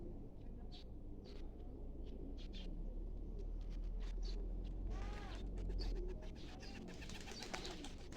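Pigeons coo softly in low, repeated throaty calls amid a busy outdoor ambience at Sirao Garden in Cebu City, with a steady low rumble and faint chatter.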